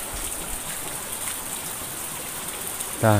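Water running steadily from a spout at a spring beside a roofed shelter, a continuous broadband splashing that holds even throughout, with a brief louder knock or voice at the very end.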